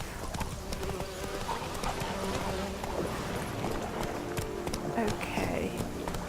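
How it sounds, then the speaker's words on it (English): Roach, the horse in The Witcher 3: Wild Hunt, gallops in a rapid rhythmic clip-clop of hooves over game ambience, with a brief whinny and a voice talking over it. "Back on the horse. Come on, Roach."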